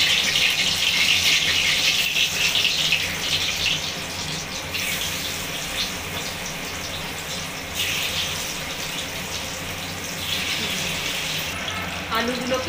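Spiced, pre-marinated potatoes fry in hot oil, giving a steady, loud sizzling hiss across the whole stretch that eases slightly midway and swells again near the end.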